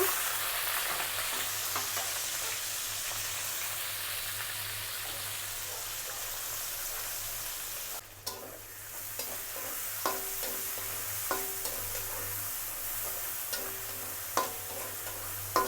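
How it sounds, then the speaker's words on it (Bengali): Chopped onions fry in oil in a pan for a chicken and potato curry, a continuous close sizzle broken by a spatula scrape midway, then scattered stirring clacks and taps over the frying. "এখন আমি পেঁয়াজ কুচি দিয়ে দেব"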